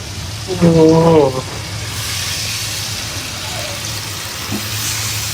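Pomfret (rupchanda) fish frying in a pan, a steady hissing sizzle that runs throughout, with a short stretch of speech near the start over it.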